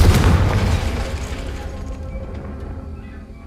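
A Confringo explosive spell blast in Hogwarts Legacy, one loud, heavy boom at the start that rumbles and fades out over a few seconds.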